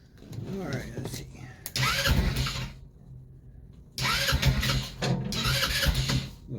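A Yerfdog Scout compact utility vehicle's small engine cranks and sputters in repeated bursts with short pauses between attempts, catching on the choke toward the end, close up and loud, with someone talking during the cranking.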